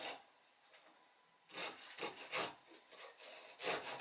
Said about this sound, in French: Je vais maintenant faire un trait de scie au sommet.